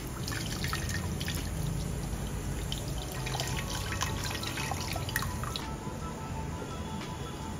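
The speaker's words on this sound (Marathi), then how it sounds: "मसाल्यामध्ये जे गरम पाणी होतं ते टाकलंय." Hot water poured into black masala in a pan while cooking pav bhaji, giving a steady, close, wet splashing and trickling hiss with no pause or talk.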